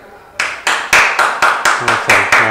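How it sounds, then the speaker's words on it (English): A studio audience claps in a burst of separate, sharp hand claps that build into steady, fairly loud, even clapping, with no talking over it. "That's a pretty good clap."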